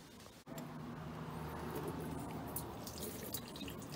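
Dripping and trickling water draining from a flood-damaged lawn mower engine over a low steady rumble, close by, with no voices, in a continuous patter.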